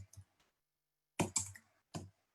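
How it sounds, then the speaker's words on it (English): An email address is typed on a computer keyboard in quiet, close bursts of key clicks, with a few taps, a pause, then a denser cluster of keystrokes and one last tap. "I'm going to first start with typing my email address."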